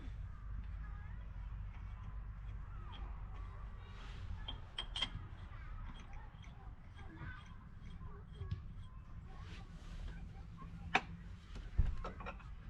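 A Unimog U1700L portal hub, with its seal just replaced, is turned by hand. It gives a faint low rumble with a few light creaks and clicks, the clearest near the end.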